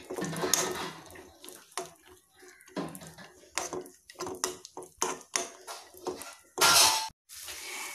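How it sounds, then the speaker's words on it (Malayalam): Cashews and raisins fry in hot ghee in a pan for jackfruit seed payasam, giving irregular bursts of sizzling and spoon-on-pan scraping and clatter at close range, with no talking. "നെയ്യ് ചൂടായി വരുന്ന സമയത്ത് അണ്ടിപ്പരിപ്പും മുന്തിരിയും ആഡ് ചെയ്ത് വറുത്തെടുക്കാം"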